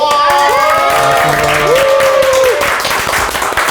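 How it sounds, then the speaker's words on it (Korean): Children applaud to welcome a Kangwon National University professor at a makerspace 3D printing class, loud dense clapping mixed with high excited shouts and whoops throughout. "자 우리 교수님 소개할 때 박수 하는 거야"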